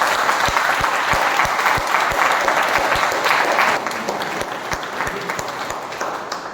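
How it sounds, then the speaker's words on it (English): An audience claps at a Toastmasters meeting, steady applause for several seconds with a few distinct near claps punctuating the wash, tapering slightly toward the end. "I think they both deserve a better round of applause."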